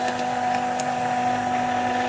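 A blender whirring steadily as it mixes mayonnaise in a jug, a constant motor drone with a bright tonal whine, loud and close without pause.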